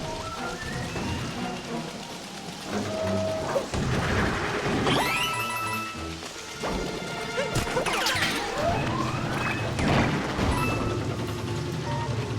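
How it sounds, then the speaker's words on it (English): Cars get smashed in Super Mario Odyssey during a rainy electrical blackout, with repeated loud crashes and metallic whacks over a steady hiss of rain and game music. "Why am I smashing cars when I should be killing Bowser anyway?"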